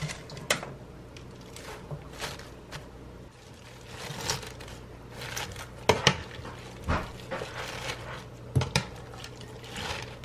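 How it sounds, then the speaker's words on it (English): A spoon clinks and scrapes against a pot while lazy cabbage rolls are stirred with sauce and onion, giving quiet, irregular taps and knocks with no talking. "I'm stirring it up a little bit to make some of the sauce into the cabbage with the onion."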